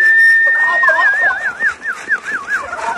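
Noisy birds call on a farm with goats nearby: a loud, close whistling note bends into a long, wavering warble that rises and falls for several seconds, with no talking.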